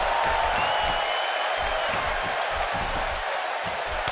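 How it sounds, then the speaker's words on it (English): A Tokyo arena crowd cheers in the WWE 2K18 video game during a wrestling match, a continuous loud roar of applause and shouting with occasional low thuds beneath it. "just listen to this Tokyo crowd"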